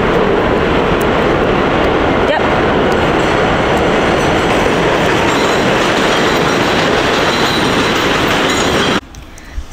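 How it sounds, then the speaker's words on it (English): A train running on rails gives a loud, close, continuous rumbling roar with clattering wheel noise, then drops off sharply near the end. "I think my train is over here"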